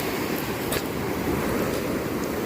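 Large surf waves break heavily along the shore under a calm open sea, a continuous broadband roar and wash with gusty wind noise on the microphone, steady and fairly loud throughout.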